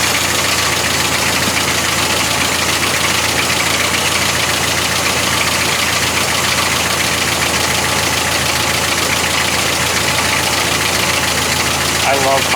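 A Jeep CJ2A engine runs steadily just after a new carburetor float was fitted, a continuous, fairly loud idle with a mild knocking texture throughout.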